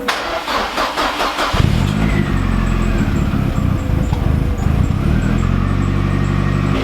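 A Ford Escort Cosworth, just fitted with a new fuel filter, cranks in a quick rhythmic churn, fires, and settles into a loud, close, steady running idle with no voices.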